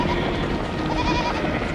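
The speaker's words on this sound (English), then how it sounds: "a herd of goats chased him" A herd of goats bleats in a field, with wavering, overlapping cries over a steady rumbling background.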